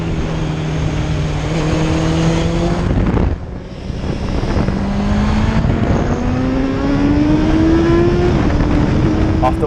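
A Honda CB650F inline-four motorcycle engine revs hard, its pitch climbing steadily higher after a brief dip, screaming toward 10,000 RPM at the top of its range.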